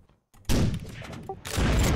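Missile strike in the video game Unturned during a World War II match: a sudden loud broadband blast erupts after a brief near-silence, rumbles on, then a second heavy burst follows, dense and close.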